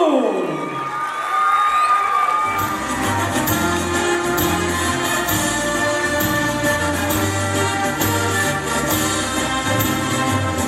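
An audience cheers and shouts for a high school parade at a talent award show, a loud sustained crowd roar with children's voices that continues for the whole stretch.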